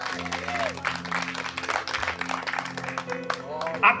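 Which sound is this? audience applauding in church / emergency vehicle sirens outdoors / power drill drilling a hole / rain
audience applauding in church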